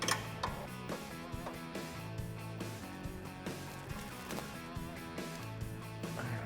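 A Rugged Ridge Spartacus front bumper bracket is tightened on a Jeep Wrangler JL, giving repeated clicking, ratcheting metallic turns in a quick, uneven rhythm, close and moderately quiet, with no talking.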